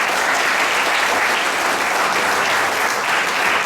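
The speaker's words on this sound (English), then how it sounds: "A big round of applause to them." Steady, dense applause from an audience at a national auto tech fest awards ceremony, loud and continuous throughout with no talk over it.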